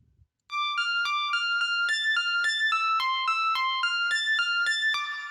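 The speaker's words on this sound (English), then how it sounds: "We'll listen to just the piano." A melody in music production software plays steady, evenly spaced piano notes, bright and upfront with a short reverberant tail, alone after a moment of silence.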